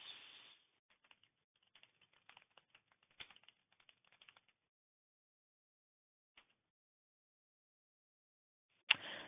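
Faint, scattered keystrokes tap on a computer keyboard in short irregular bursts, separated by stretches of near silence.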